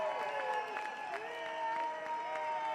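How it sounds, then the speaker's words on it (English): Applause for the competitors at the close of a Department of Defense Warrior Games powerlifting event, steady moderate clapping from the audience with a tonal sound weaving through it. "let's give one more big round of applause for all the competitors"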